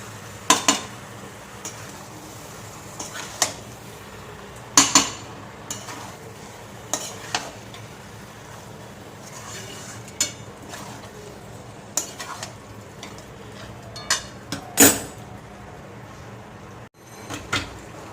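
Chicken is stirred and fried in a pot for khichuri, with sharp intermittent clanks and scrapes of a utensil against the pot over a low, steady background, close by and with no voices.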